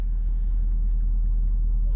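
Steady low truck engine rumble heard from inside the cab, a continuous close drone with no clear revving, at a moderate level.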